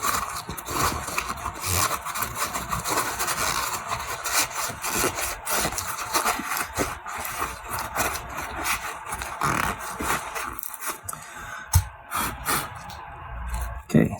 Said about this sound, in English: I'm going to use a little bit of brake clean. And then I'm going to wipe it up